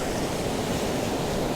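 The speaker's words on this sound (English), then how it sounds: "But we've got some waves coming in." Sea waves wash steadily onto a shoreline along the coast, a continuous, fairly loud broadband surf roar with no breaks and no voices.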